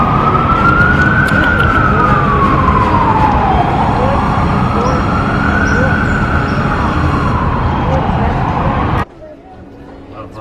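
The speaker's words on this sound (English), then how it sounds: "Wouldn't be the city without sirens." Emergency vehicle sirens wail loudly through Union Square in New York City, one siren sweeping up and down in long cycles over city traffic noise before cutting off abruptly near the end.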